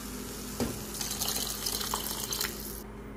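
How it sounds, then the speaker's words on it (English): Water pours steadily into a cooking pot for sambar, a continuous splashing fill close by that stops abruptly near the end, with no talking. "Then we'll add half glass of water."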